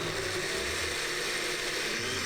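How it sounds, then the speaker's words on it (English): A kitchen blender whirring through a vanilla mixture with salt and vanilla extract, a steady, dense motor drone running loud and continuous for the whole stretch. "now we're just gonna blend this up"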